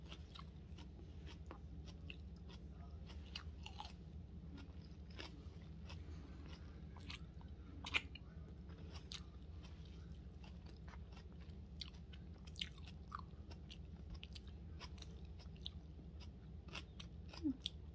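Faint, close crunching and biting of crunchy low-carb food during a mukbang, with scattered sharp crackles over a steady low background hum.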